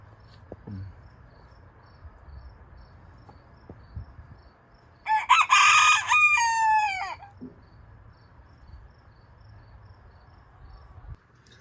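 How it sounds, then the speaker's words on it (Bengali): A young rooster crows loudly and close by in a backyard garden, one drawn-out crow lasting about two seconds, against a quiet outdoor background with faint insect chirping. "চলে যাওয়া মাত্রই ডাক শুরু করছে দেখছেন এতটুক মোরগের কত জোরে ডাক দিচ্ছে"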